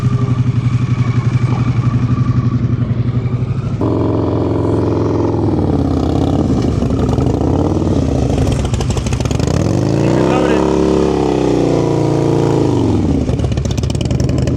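Motorcycle engine heard up close through slow cone turns in a group riding lesson, a steady loud drone whose pitch sinks and rises as the revs drop in the turn and climb again afterward.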